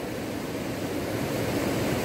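A big mountain river in Lamjung, Nepal, rushing past in a constant broadband roar, near and fairly loud, with no talking.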